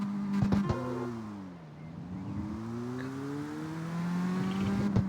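A car engine revs and shifts in a drift race in an open-world racing video game, rising and falling in pitch with a brief dip, loud and close.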